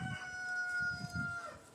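Farmyard chicken giving a few low clucks in quick succession, faint and close, over a thin steady tonal whine in the background.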